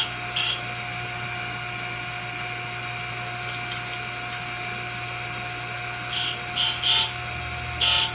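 A square grinder sharpens the teeth of a chainsaw chain in short, sharp grinding bursts: one early touch, then four quick passes near the end, separated by a steady machine hum.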